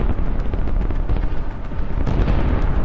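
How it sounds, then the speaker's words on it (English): Loud, rumbling blasts and crackling detonations in rapid succession as a missile launcher is hit and its ammunition detonates, a chaotic barrage of booms and sharp pops with no speech. "Another launcher fires, but almost immediately it is hit and detonates."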